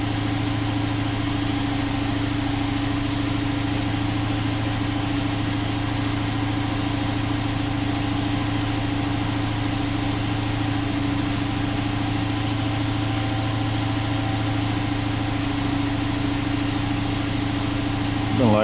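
A Chrysler 300 engine with a misfire not caused by ignition, idling in one loud, steady, unbroken drone with a low rumble that holds for the whole stretch.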